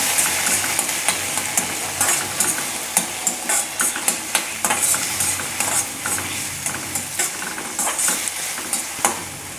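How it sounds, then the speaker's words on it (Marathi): Tomatoes sautéing with onions in a hot pan, a steady sizzle broken by frequent scraping stirs of the spatula, close and fairly loud, no voices. "आता यामध्ये मी हे टोमॅटो टाकणार आहे। टोमॅटो पण छान परतून घ्यायचा।"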